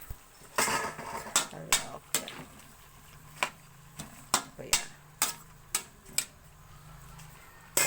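A lid clatters onto a cooking pot of chopsuey with water just added, making a series of sharp metallic clinks and taps at an uneven rhythm, with people talking quietly in between.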